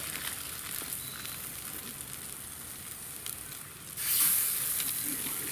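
Salmon patties fry in ghee on a hot cooking surface, a steady close sizzle that swells louder as more patties go down.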